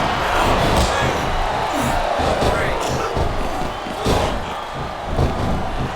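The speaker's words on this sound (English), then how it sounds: "This capacity crowd is making their opinions known tonight." Arena crowd in the wrestling video game SmackDown vs Raw 2007, a dense roar of cheering and shouting with scattered thuds and slams, running continuously at moderate loudness.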